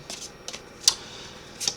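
Tarot cards shuffled by hand in a few short, soft riffling bursts spaced across a quiet room, fairly close, with no talking.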